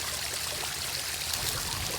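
Creek water flowing steadily, a dense bright rushing and trickling sound that stays close and even for the whole stretch, with no talking.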